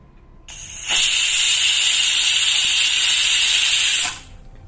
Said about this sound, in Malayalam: ഇപ്പൊ ഫസ്റ്റ് വിസിൽ വന്നു.